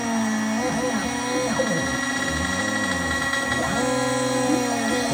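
A CNC router spindle runs steadily, a close continuous whine and hum with some shifting tones as it moves toward a board, with no talk over it.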